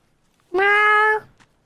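A person imitating a cat's meow over online game voice chat, one loud drawn-out meow lasting about half a second, close and clear against near silence.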